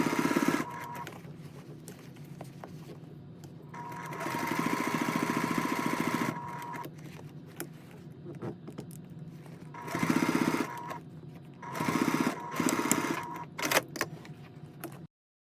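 A sewing machine stitching a bag lining, running in several bursts of steady mechanical whirring with quieter pauses between them, fairly close and alone without talk.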